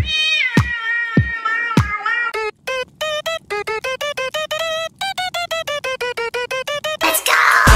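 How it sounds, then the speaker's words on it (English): A cat meows wildly in a fast, relentless string of short, loud cries, one after another, ending in a burst of noise. "This is a crazy cat."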